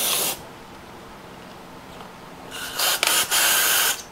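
Carburetor cleaner sprayed onto the carburetors of a 1980/81 Arctic Cat El Tigre 5000 snowmobile: a short hissing burst at the start, then after a pause several loud, close bursts of aerosol spray, one after another.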